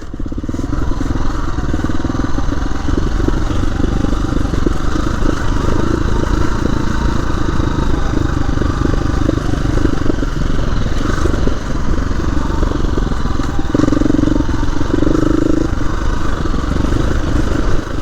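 A KTM 350 EXC-F dirt bike ridden along a rut on a ridge road, its engine droning loudly and steadily up close with slight rises in revs and occasional knocks.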